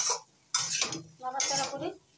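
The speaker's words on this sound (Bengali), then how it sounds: "এবার দিয়ে দিচ্ছি সজনের ডাঁটা। সজনের ডাঁটাটা একটু ভালো করে মিশিয়ে নেব" Drumstick vegetable pieces are stirred in a pan of mixed vegetarian vegetables, giving scraping spoon-on-metal strokes and clattering in three separate bursts, with a light sizzle underneath.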